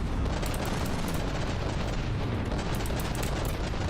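Continuous dense booming and cannon fire from naval battles in the game From the Depths, a loud unbroken wall of gunfire and explosions with no clear gaps.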